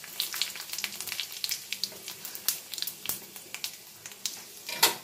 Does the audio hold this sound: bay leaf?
yes